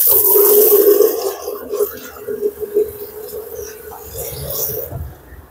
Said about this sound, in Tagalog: Tapos, dagdag tayo ng tubig.